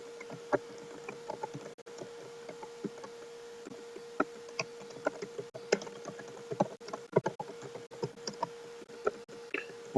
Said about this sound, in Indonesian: Saya akan mengetik